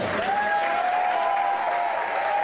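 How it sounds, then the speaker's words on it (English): A crowd applauds loudly and steadily, with a high whistle ringing out over the clapping. "Make some noise for Carol"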